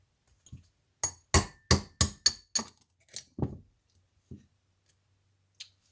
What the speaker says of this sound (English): So we're going to drive out this bottom pin.